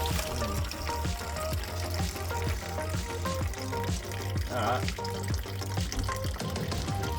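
Water gushes steadily from a garden hose while the cooling system of a VY Calais is being flushed, a continuous splashing pour that runs throughout with a brief spoken word over it.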